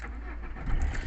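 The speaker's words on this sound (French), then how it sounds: "Et voilà, elle démarre à 3 quarts de tour l'auto." Citroën C2 car engine turning over and catching, rising to a steady low rumble that grows slightly louder toward the end, close by with no talking.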